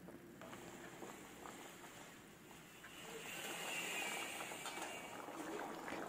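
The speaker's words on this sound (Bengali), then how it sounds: "ঝোলটাকে আমি 10 মিনিটের মতো ফুটতে দিয়েছি" Boyal fish curry broth boils on high flame, giving a steady bubbling hiss and roil that swells louder partway through, close and continuous.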